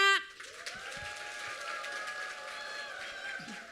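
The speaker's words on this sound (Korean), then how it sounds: "여러분의 힘찬 박수와 함께 시작하겠습니다" Audience applause opening a lecture at a company seminar, a moderate burst of clapping that settles into a steady wash under a sustained tone and a talking voice.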